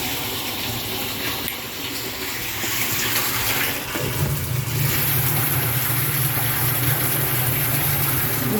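Spotless water rushing from a hose into a baffled tank in a Vauxhall Vivaro window-cleaning van, a steady close hiss that deepens into a fuller gushing tone partway through, with no talking.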